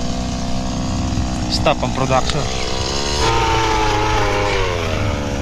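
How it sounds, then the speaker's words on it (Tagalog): Engine of a harvesting machine running steadily during harvest season, a continuous droning hum with a rhythmic mechanical rattle, loud throughout with a voice talking over it. "maandar na ulit ng maayos yung makina"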